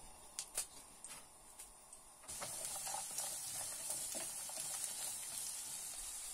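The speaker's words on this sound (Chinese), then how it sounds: "先把这个南瓜煎一煎" Pumpkin pieces frying in a little oil in a hot wok, a steady bright sizzle that starts after a couple of seconds of quieter clinks and taps, then holds evenly close by with no talking.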